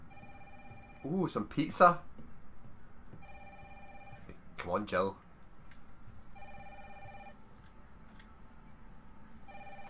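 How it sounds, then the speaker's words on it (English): A telephone rings in the Resident Evil 3 video game, a steady repeating electronic bell that runs through the whole stretch while someone talks briefly over it near the start. "Oh, phone's going. Answer the phone."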